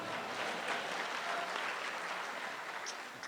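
Fairly quiet but dense applause from a comedy show audience in Muscat, a steady wash of clapping that tapers slightly at the end.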